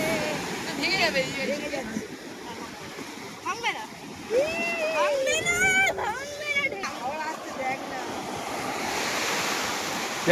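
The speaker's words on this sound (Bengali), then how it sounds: "ঢেউটা হ্যাঁ, আসছে দেখুন" Ocean waves break and surge continuously on the beach at Old Digha, with a broad roar of surf, wind buffeting the microphone and people talking and calling nearby throughout.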